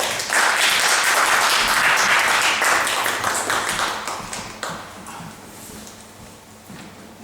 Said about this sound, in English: Please give a warm round of applause to the company of The Table Manners